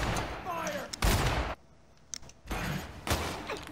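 Rapid bursts of loud gunfire from The Outer Worlds, several heavy volleys separated by a brief quieter pause, crackling and booming across the whole range.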